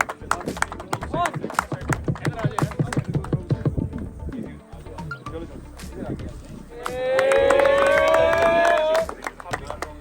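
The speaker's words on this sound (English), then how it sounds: "A big round of applause." Crowd at a cricket tournament awards ceremony in Saskatoon claps in a busy patter of hand claps, with voices talking and a sustained horn-like tone rising near the end.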